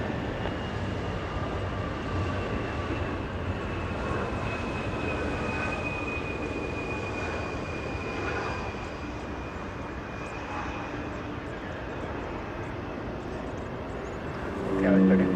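An Alaska SkyWest airliner arriving at Los Angeles International Airport produces a continuous jet engine drone with a high whine, while people talk over it.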